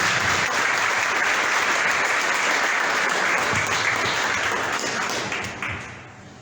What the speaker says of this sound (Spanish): Le recibimos con un fuerte aplauso a nuestro padre William Vázquez Alarcón